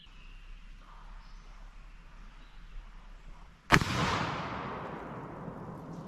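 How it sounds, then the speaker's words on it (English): One sharp, heavy report of a 12 gauge shotgun firing a Hornady Whitetail slug after a quiet stretch, followed by a long rolling echo that slowly fades. "Our next ammo will be Hornady whitetail, and we'll shoot 2 rounds."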